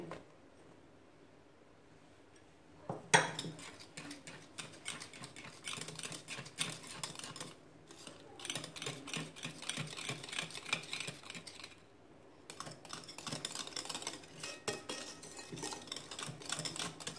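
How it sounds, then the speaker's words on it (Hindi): Russian salad ingredients being mixed in a bowl, with repeated close clinks and scrapes of a utensil against the bowl in steady bursts, a short pause, then more stirring clatter. "इसको अच्छे से मिक्स कर लेंगे।"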